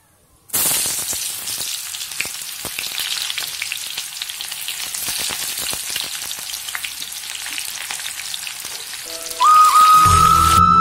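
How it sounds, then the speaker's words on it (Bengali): Boiled peas sizzle loudly as they are sautéed in a pan for ghugni, a steady dense crackle of frying that runs almost the whole time, with a brighter hiss swelling near the end. "এখন আমি এই যে মটরটাকে এখন আমি তাড়াতাড়ি করে কষিয়ে ঘুগনিটা রান্না করে নেব"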